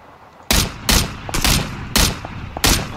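Gunfire in PUBG, five sharp, loud shots spaced about half a second apart, each ringing briefly before the next, with no voices.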